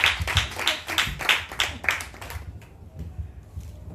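A congregation claps steadily at a French-language church sermon acclaiming Jesus. The claps are quick and rhythmic for about two and a half seconds, then thin out to a few scattered ones.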